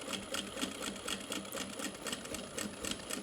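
Sewing machine stitching a fabric tote bag panel up to the top edge, a steady rapid mechanical whir of the needle running continuously and close, with no talking.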